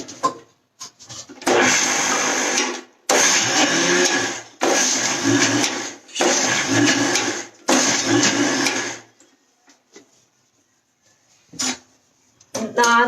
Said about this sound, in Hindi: ये हमारी शुगर को हम दाल के साथ ही डाल के हम मिक्सर में